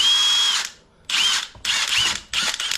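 A Milwaukee impact wrench, newly unboxed, fires in three or four loud close bursts of high whirring and hammering, each under a second long and split by short pauses.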